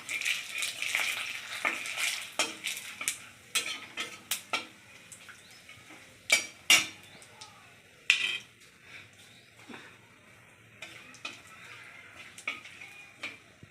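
Dried red chillies and bay leaves dropped into hot oil for a Bengali fish and potato curry, giving a steady crackling sizzle with scattered sharp pops and clinks of a utensil against the pan.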